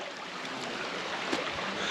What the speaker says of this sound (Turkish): Burada çok temiz bir su var. Şuradan bir yerden kaynak var. Oradan akıyor böyle.